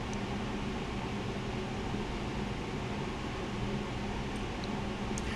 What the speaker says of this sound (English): I'm dropping each piece of fish one by one into the deep oil